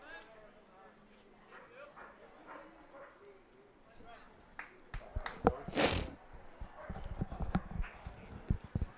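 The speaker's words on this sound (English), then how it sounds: "Some dog is being heard from down the right field line." A dog barks from down the right field line at Athletic Park during an American Legion baseball game on bark-in-the-park night. The short barks come through crowd murmur and announcer talk, with a louder burst midway.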